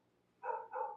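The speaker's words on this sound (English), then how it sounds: "I don't know how much the microphone picks up the dogs. You have to tell me. Because she is barking." A dog barks twice in quick succession, fairly faint and somewhat distant, over a quiet indoor hum.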